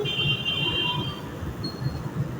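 A metro train runs through Liaquat Bagh metro station in Rawalpindi, a steady rolling rumble with a high wheel squeal early on, moderately loud and heard without talk.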